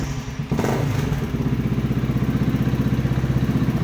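A motorcycle's starter motor cranks the engine after the starter button is pressed with the ignition on and the kill switch bypassed, following a starter relay replacement; a thump opens a loud, steady rhythmic churning that runs close up for several seconds without talk.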